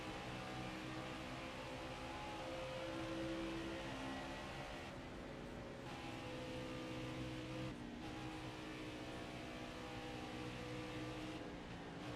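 A race car in NASCAR Heat 4 on Xbox One roars past, a steady loud engine drone with shifting pitch and brief dips as the car draws alongside, no talk.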